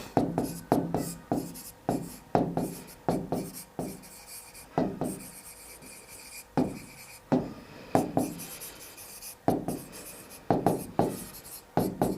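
Quick bursts of pen or marker strokes on a board or paper during a maths lesson, close and crisp, with frequent rhythmic scratches separated by brief pauses throughout.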